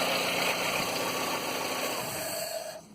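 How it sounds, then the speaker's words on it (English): A running Nissan Micra engine hums steadily, then falters and cuts out near the end after a wire is disconnected, leaving near silence. "the engine just dies with that wire taken away"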